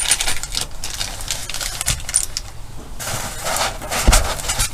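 Metal chuck keys for a Sainsmart Genmitsu 4th axis rotary jangle and clink in bursts during unboxing, close and fairly loud with a few sharper knocks.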